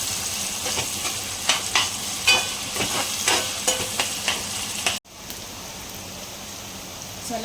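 Onion, tomato, garlic and chili are stirred as they fry in a pan for a crab curry, a steady close sizzle with scraping stir strokes. The sizzle drops to a quieter, even hiss partway through.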